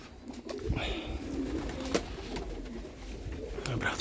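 Soft cooing of racing pigeons in a loft, several low throaty calls at close range over a faint background with occasional rustling and a brief sharp knock.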